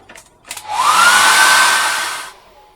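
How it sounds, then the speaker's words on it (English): A hair dryer switches on and blows with a loud, steady whoosh and rising whine for under two seconds, then cuts off. "I'm going to dry that with a hairdryer now."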